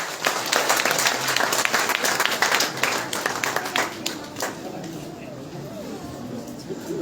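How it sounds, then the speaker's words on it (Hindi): An audience at the Uttarakhand Mahaparisad event applauds a performer with loud, dense clapping that gradually thins out and fades, while a voice talks over the claps. "जोरदार तालियां रोजी दुबे जी के लिए।"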